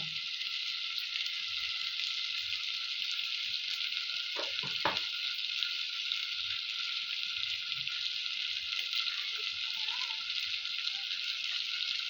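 Oil frying steadily in a pan with ginger and garlic for a prawn and teasel gourd curry, a continuous bright sizzle throughout, with a brief clatter of stirring near the middle and faint low knocks underneath.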